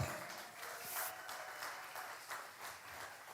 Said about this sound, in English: Round of applause for Beano